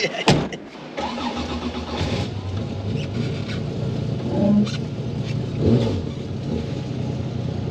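A Porsche 911 (RWB 964) engine cranks and fires up with a sharp burst, then settles into a throaty rumble with a couple of rising revs, close by and fairly loud.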